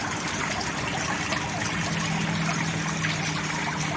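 Water from a pond pump trickles steadily into a goldfish tank, a constant, close splashing burble that keeps up without pause or speech.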